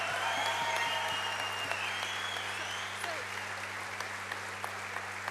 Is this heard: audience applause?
yes